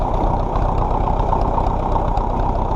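A 1957 French-built tractor engine idles nearby with a steady, loud, low chugging rumble that keeps an even rhythm throughout, with no voices.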